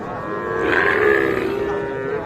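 A young calf moos in a long, drawn-out call that swells in the middle, heard up close over a steady background murmur at Ambari cattle market.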